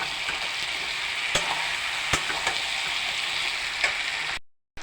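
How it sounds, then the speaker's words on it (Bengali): Fried potato is stirred into a simmering liver curry in a pan: a constant close sizzle, with a few sharp scrapes and knocks of the spoon, then a sudden cut to silence. "আলুটা ওর সাথে ভালোভাবে মিশিয়ে নেব।"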